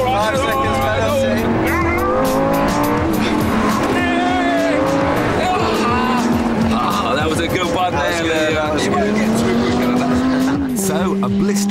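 A Lamborghini Gallardo Superleggera accelerates hard from a standing start, its engine rising in pitch through several gear changes, loud and continuous throughout, with someone talking over it.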